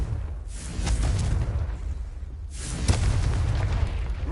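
Two heavy magical blasts from the Confringo spell in the Hogwarts Legacy video game, each a booming burst with a rumbling tail, the second slightly stronger.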